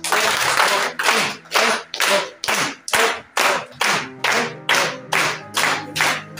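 An audience at a women's degree college event clapping hands together in a steady rhythm, about a dozen sharp, loud, close bursts evenly spaced, with no talk over them.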